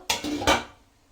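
A metal lid is lifted off a steaming pot of chira puli pitha, flattened-rice dumplings. Two quick, close clanks sound in quick succession, then die away into quiet.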